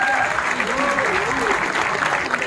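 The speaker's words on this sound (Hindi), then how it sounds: "जोरदार तालियों से इस्तकबाल कीजिए खूबसूरत अदाकारा दिया मिर्जा साहिबा का" An audience at a literary festival applauds to welcome actress Diya Mirza, dense steady clapping over which a voice keeps talking.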